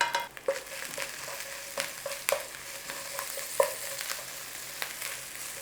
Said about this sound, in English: We just cook out that rawness of that ginger and those chilies